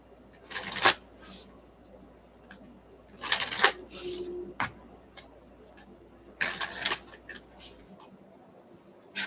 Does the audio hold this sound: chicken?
no